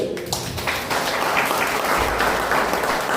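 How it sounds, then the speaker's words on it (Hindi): A church congregation applauds during worship, dense steady clapping filling the room at an even level throughout. "यीशु को ताली बजा दो"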